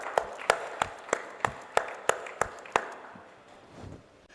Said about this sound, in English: I request the House to give Empress Safi a round of applause